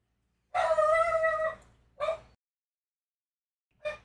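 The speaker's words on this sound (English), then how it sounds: "Sorry about the dog, guys." A dog indoors gives a long, close, drawn-out bark with a howling tone, then a shorter yelp and a brief third bark after a pause, with no talking.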